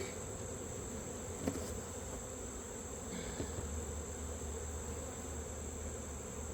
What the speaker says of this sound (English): I got some bees that got on this cover.